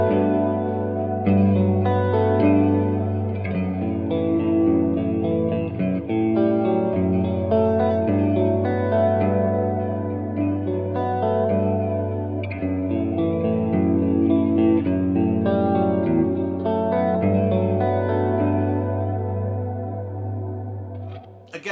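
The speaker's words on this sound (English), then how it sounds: "the sound I'm doing here is I have some reverb and I have some chorus" Electric guitar on the neck pickup with its tone rolled down, washed in reverb, chorus and delay, plays a sustained, airy ambient part of ringing chords and notes, steady and full throughout.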